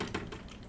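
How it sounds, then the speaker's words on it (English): Quick keystrokes on a computer keyboard, a few close, light clicks in an uneven burst over a low background hum, with no voices. "Keyboard."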